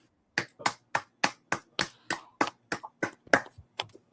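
Sharp, separate hand claps, about a dozen in a steady rhythm, close and fairly quiet, from a small gathering at a brotherhood scripture class in Durham, North Carolina.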